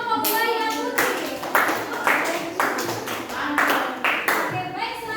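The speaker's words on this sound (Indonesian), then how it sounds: "tepuk tangan untuk kelompok buaya putih" A classroom claps rhythmically for a student presentation group, a close burst of patterned hand claps in repeated beats with children's voices mixed in.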